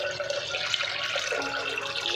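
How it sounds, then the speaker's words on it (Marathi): Water poured into washed lentils for a thin amti, a steady close splashing and gurgling stream that runs the whole short moment. "डाळ स्वच्छ धुवून घेतली की त्यामध्ये नेहमीपेक्षा थोडंसं जास्त पाणी घालायचं आहे"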